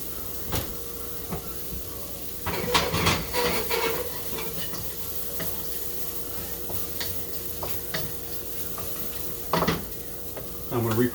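Meatballs finishing in a pan, a steady low sizzle underneath scattered clinks and stirring taps of a utensil against the pan, with a few sharper knocks along the way.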